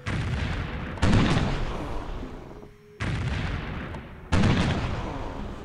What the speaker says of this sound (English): I've just got frigates all around just bombarding American cities